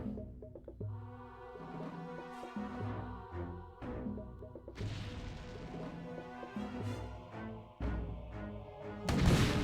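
Artillery fires in the StarCraft custom map Enemy at the Gate, with several heavy booming hits spaced seconds apart over steady game music.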